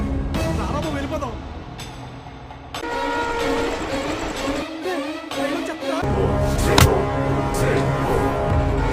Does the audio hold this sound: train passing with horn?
yes